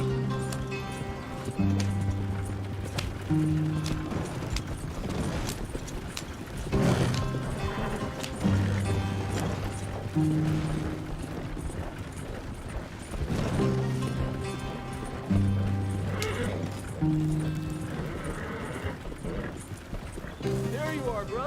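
A horse gallops in the video game Red Dead Redemption 2, with rhythmic hoof clops repeating under steady in-game music and ambience while a voice speaks briefly.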